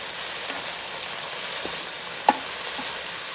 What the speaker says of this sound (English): I'm going to just stir that up for a minute.